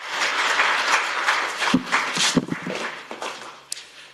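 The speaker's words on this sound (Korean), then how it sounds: "큰 박수로 환영해 주시기 바랍니다" Audience applause at a handball forum welcoming a speaker, moderate clapping from a seated crowd that thins and fades toward the end, with a few sharp isolated claps.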